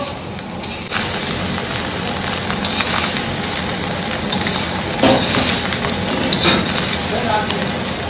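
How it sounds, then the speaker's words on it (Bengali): Rice being mixed with a large amount of mutton in a hot pan, a loud steady sizzle and frying hiss with repeated scraping stirs, close up and without talk. "দেখুন দেখুন আমি আগে রাইসটা মিশিয়ে নিই, তারপরে মশলা দেবো"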